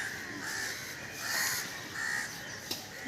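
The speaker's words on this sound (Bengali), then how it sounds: "ওই যে কাকগুলো কেমন ঘোরাঘুরি করছে" Crows circling overhead near a village, cawing repeatedly from a distance in short harsh calls, faint over a quiet outdoor background.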